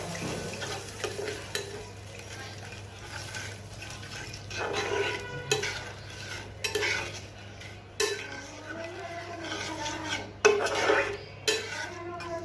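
A spice paste with water is stirred and sautéed in a pan, making a soft simmering sizzle broken by repeated scraping and knocking of a spoon against the pan, with a low steady hum underneath.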